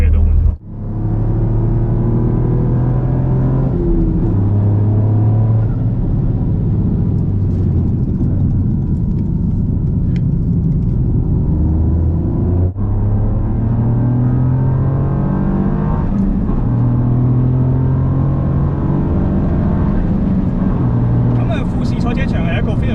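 A modified Toyota GR Yaris RC with upgraded suspension, brakes and intercooler, driving hard around Fuji Speedway: continuous loud engine drone with rising and falling revs through gear changes, heard from inside the car.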